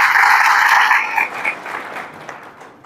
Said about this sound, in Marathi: तर त्यासाठी सर्वांनी एकदा जोरदार टाळ्या वाजवायच्या.